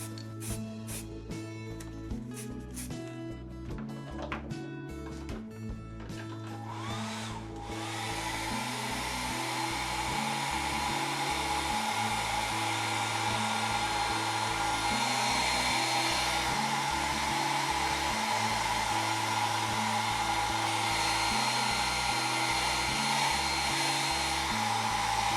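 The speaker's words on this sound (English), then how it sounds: "I am going to use a hairdryer just to avoid any possibility of runs" A hairdryer blows steadily to dry spray primer on a scale Austin van model, its loud, even whoosh running continuously after a few seconds of softer mechanical clatter.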